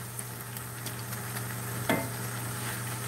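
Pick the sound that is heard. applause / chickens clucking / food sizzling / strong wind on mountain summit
food sizzling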